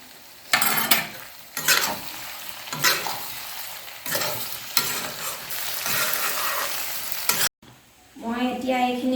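Pork meat sizzles loudly in a hot pan while being stirred in repeated scraping bursts, then a short gap and a quieter clattering stir near the end.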